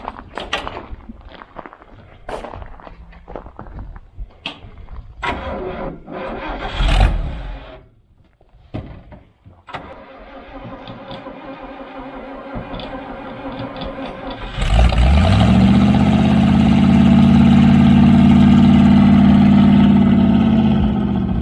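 A 1967 International Harvester Scout 800 Sporttop V8 4WD cranks and catches, then settles into a loud, steady near idle with a deep rumble after some earlier shuffling and handling noises.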